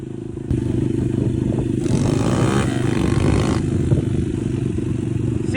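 A Chinese dirt bike engine runs steadily nearby with a buzzy, throbbing idle that rises briefly in a rev midway before settling back, loud and continuous throughout.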